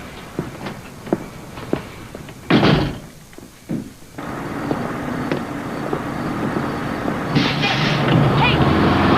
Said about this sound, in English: Yeah, shut the door.